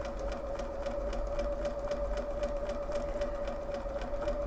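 An embroidery sewing machine stitching couching, running in a steady, continuous mechanical whir with a rapid even pulse and a sustained hum, close and uninterrupted, with no talking.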